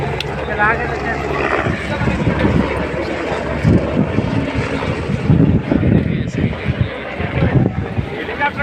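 A helicopter flies near the helipad at Kedarnath, its rotor and engine rumble continuous and fairly loud, mixed with wind buffeting the microphone while voices talk over it.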